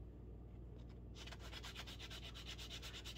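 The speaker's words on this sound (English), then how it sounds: "I'm going to use a sanding block to smooth it out and make sure that everything is round." Balsa wood crankbait fishing-lure bodies being smoothed and rounded with a sanding block, a quiet rhythmic series of rasping strokes that starts after a brief pause and repeats steadily, close up and alone.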